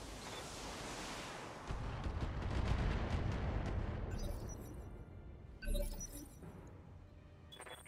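Weapon fire strikes a target in a video game: a rumbling, crackling barrage swells and fades, then one sharp burst cracks out near the end, fairly quiet overall.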